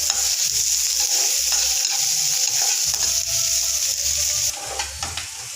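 Ginger and garlic fry in a pan, giving a steady close sizzle with repeated stirring scrapes and low knocks throughout, with no talking.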